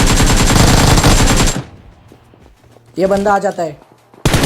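Rapid automatic gunfire from the video game PUBG blasts loud and continuous for about a second and a half, then cuts off; someone speaks briefly afterward.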